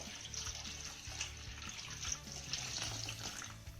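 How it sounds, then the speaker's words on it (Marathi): Tap water runs into a large bowl of cut bitter gourd, a steady close splashing and gurgling that continues for a few seconds with no voices. "आता ही कारली बुडतील ना एवढं पाणी आपल्याला यामध्ये घालायचंय."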